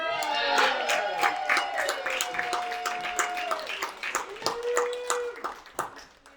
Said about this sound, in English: A round of applause for Mother Goose Me.